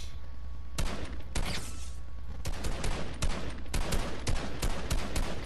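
Gunfire in the video game Fortnite Battle Royale: a string of sharp shots at uneven intervals, single cracks early on, then quicker clustered bursts, moderately loud over steady background noise.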